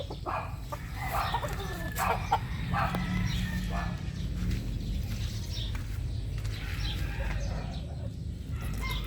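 Several short clucks from an Escolin White Muff rooster, close by, scattered over a few seconds against a busy outdoor farmyard background.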